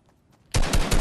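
Automatic gunfire in Fortnite bursts in suddenly after a near-silent moment, a loud rapid volley of shots close up.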